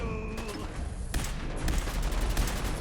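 Rapid gunfire bursts in Fallout 4, dense close crackling shots that start after a moment, pause briefly, then resume in a louder sustained volley, with no talk.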